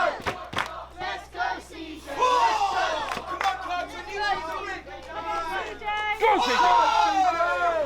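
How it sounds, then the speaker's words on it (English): A wrestling crowd at a PW Clash event cheers CJ Carter on with loud, surging shouts and chants that rise and fall through the whole stretch, heard close and dense. "the crowd are doing their best to help CJ Carter, to will him on"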